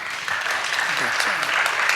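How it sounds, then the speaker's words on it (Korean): A church congregation at a Korean youth worship service claps for the praise team, with steady, dense applause throughout and a voice talking over it. "오늘 우리 열심히 찬양을 인도한 우리 찬양팀을 위해서 박수 한번 합시다."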